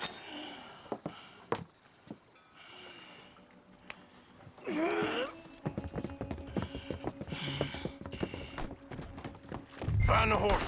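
Video game horses clop along with uneven hoofbeats, mixed with snorts, sniffs and a brief whinny, all fairly close and loud.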